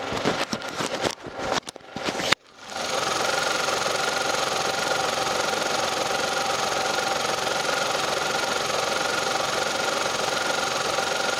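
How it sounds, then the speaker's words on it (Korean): A few seconds of rustling handling noise, then the engine of an All New Morning Deluxe Special small car idles steadily with an even, slightly knocking hum that stays constant throughout. "자 엔진 소음도 한번 들어보시도록 할게요"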